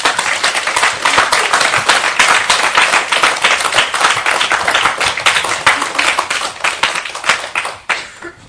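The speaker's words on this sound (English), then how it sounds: "So please give a big applause." An audience at a Sunday ceremony applauds loudly and densely, with sustained clapping from many people that tapers off toward the end.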